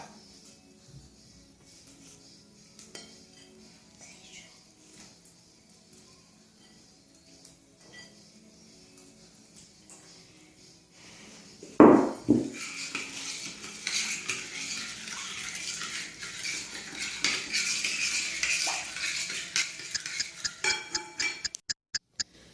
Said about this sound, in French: et ensuite on va remuer tout ça.